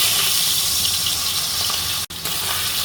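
Prawns hit hot mustard oil in a pan with a loud, steady, close sizzle that roars continuously, briefly cutting out once near the end.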